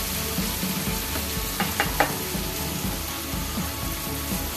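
Amti curry with kala masala stirred in a frying pan, a steady close sizzle of frying with a few soft scraping stirs around the middle.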